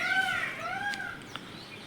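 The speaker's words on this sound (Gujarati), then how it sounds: "મોરલાઓ બોલે છે" Distant peacock calls with long, wavering tones ring out over a faint outdoor background among betel-leaf plants, a couple of cries overlapping.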